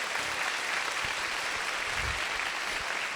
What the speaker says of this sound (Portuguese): Pode aplaudir Jesus, ele é ótimo.